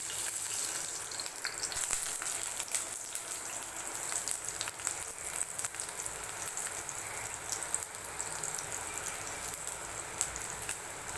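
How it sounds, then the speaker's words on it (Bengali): Dried red chillies sizzle in hot oil as a tempering, giving a steady, close crackle and hiss with small pops throughout, no voices. "তেলটা গরম হয়ে গেলে শুকনো লঙ্কার ফোড়ন দেব।"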